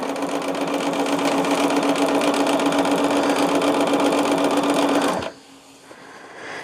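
A sewing machine runs steadily at speed while stitching quilt pieces together, a loud, close, continuous mechanical whir that stops abruptly near the end, leaving a quieter room hum.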